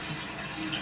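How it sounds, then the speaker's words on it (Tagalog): Water running into an aquarium tank being filled for an arowana, a faint steady gurgling wash with no break across the short moment. "nagpupuno yan, nagsacycle na din yung tubig niyan"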